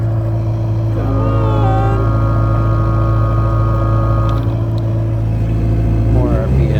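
A John Deere triple mower engine runs with a loud steady low drone and rumble that rises slightly as it revs, while a person talks over it.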